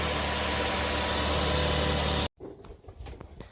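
A 2005 Toyota Sienna engine idles steadily and loudly close by, then cuts abruptly to quieter background noise.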